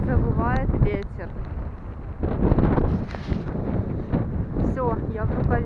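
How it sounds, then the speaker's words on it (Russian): Strong wind buffeting the microphone outdoors in cold wintry weather in Poland, a constant loud roar and rumble filling the clip, with a voice speaking over it. "и слушать, как завывает ветер."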